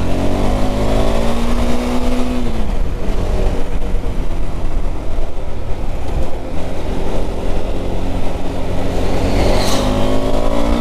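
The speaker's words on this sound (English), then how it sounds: "And now I get a little bit of traffic to remind me that we live in a real world" Road traffic and engine noise heard from a motorcycle riding a curvy rural road in Ecuador, a steady loud rumble with engine tones rising and falling as vehicles pass close by, continuous throughout without speech.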